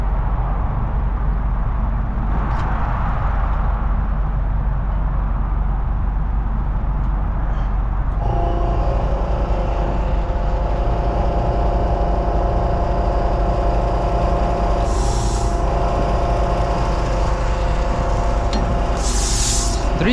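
A 2022 Subaru WRX engine droning steadily while driving, a low continuous rumble with rising tonal whine partway through, close and loud, with a few brief hissy bursts.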